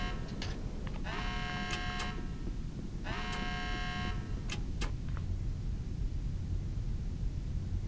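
Repeated electronic alarm tones sound in the Red Faction video game, several bursts of harmonic buzzing over a constant rumbling background noise, fading out after about five seconds.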